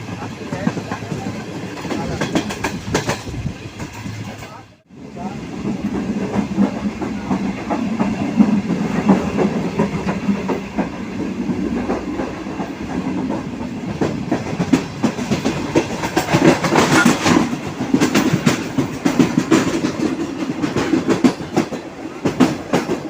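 The 13 Up Awam Express, led by an HGMU-30R diesel locomotive, runs through Jummah Goth railway station near Karachi with loud, continuous wheel rumble and repeated clickety-clack over rail joints, while someone talks over it.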